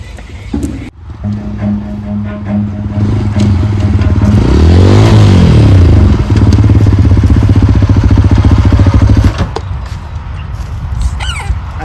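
A tractor engine runs close and loud with a steady low throb that swells and revs in the middle before dropping back, with some clatter around it.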